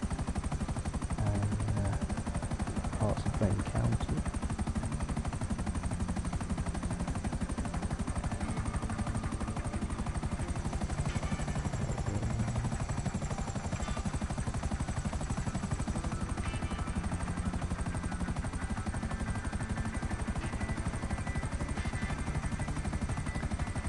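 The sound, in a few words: helicopter flying up in video game GTA Online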